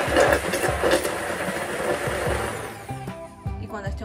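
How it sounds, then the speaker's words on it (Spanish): A kitchen blender whirs steadily while blending meat roll ingredients with lime juice, a dense continuous grinding roar that wavers slightly before trailing off near the end, with faint voices underneath. "así que vamos a licuar"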